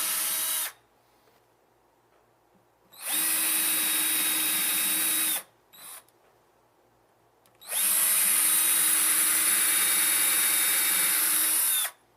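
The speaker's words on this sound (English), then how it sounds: "Use your 5mm bit and pre-drill a hole 1/8 of an inch deep at each mark." A power drill with a 5mm bit pre-drills shallow holes while fitting a Blum Aventos HS cabinet lift system, two long whirring runs and a brief blip between them, with quiet pauses.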